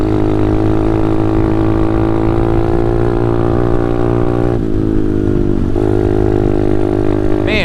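Pit bike engine running loud and close while riding outdoors, a buzzing, harmonic drone that holds steady, then dips and shifts pitch as the throttle changes, with wind noise throughout.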